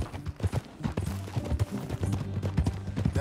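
Horse hooves clip-clop at a steady riding gait in the Red Dead Redemption 2 video game. The beat is close and rhythmic, over a low tonal background, with no talking.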